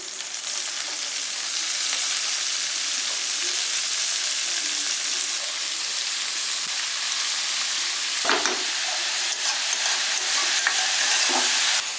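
Shredded cabbage frying in a wok over a high gas flame, a loud continuous sizzle and hiss with occasional stirring scrapes and clatters, no voices.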